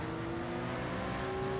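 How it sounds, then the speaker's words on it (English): An Alfa Romeo race car in Gran Turismo 7 roars just ahead as a continuous, steady engine drone with a sustained high whine, moderately loud and unbroken. "the Alfa in front is one of the best sounding cars in the game"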